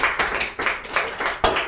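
Several rough bursts of group clapping from students in a classroom courtroom role-play, uneven and close, each burst fading quickly before the next, with no talk over them.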